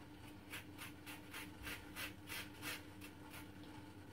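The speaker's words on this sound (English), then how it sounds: "zest a bit of lemon." A lemon is zested, giving a faint series of about a dozen rhythmic rasping strokes at a steady, quick pace, close by and alone.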